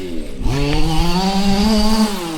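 A Losi 5T 3.0 gas RC truck with a can muffler screams at full throttle, its small two-stroke engine rising in pitch and holding a loud, close, buzzing wail for a couple of seconds.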